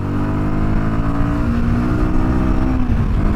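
A Royal Enfield Guerrilla 450 motorcycle accelerating hard, its engine note loud and close with a steadily rising, continuous roar and no talking.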